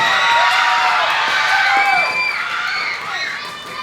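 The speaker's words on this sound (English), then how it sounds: "let's give her a huge round of applause" A school talent show crowd cheers loudly for the event coordinator, with high children's shouts and whoops layered throughout, fading slightly toward the end.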